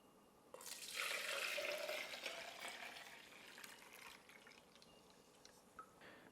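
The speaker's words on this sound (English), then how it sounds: "I am going to give this a quick wash" A container gets a quick wash under a running tap while making limoncello, water rushing and splashing loudly at first, then easing to a quieter trickle with a few clinks near the end.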